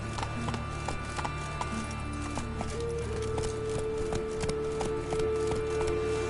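Horse hooves clip-clop in a steady trotting rhythm in The Witcher 3 video game, close and clear over ambient game music and environment sounds.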